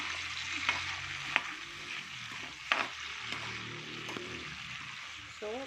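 Food being stirred in a pan, cooking toward a creamy dish: a spoon scrapes and clinks against the pan over a soft steady sizzle, with a few sharper knocks and a faint voice near the end.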